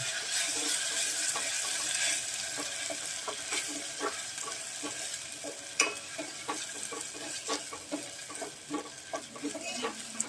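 A paste of ground cashew, onion and chili sautéing in a pan, giving a steady sizzle with frequent scraping stir strokes and soft taps that grow more pronounced toward the end.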